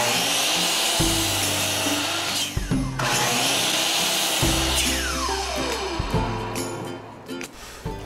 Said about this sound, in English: bring it over to the miter saw and make quick work of it